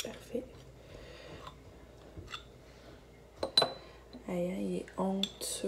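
A large spoon scoops into a jar of homemade yogurt, clinking and scraping against the container in a few close bursts, with quiet kitchen background and a voice nearby.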